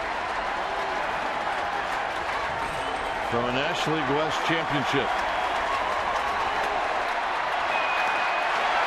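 Stadium crowd at a San Diego Padres at San Francisco Giants baseball game cheering with loud continuous applause and roar, under a broadcaster's commentary.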